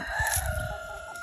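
A rooster crows loudly close by at a backyard chicken coop during feeding time, its call carrying over a low rumble of farmyard noise.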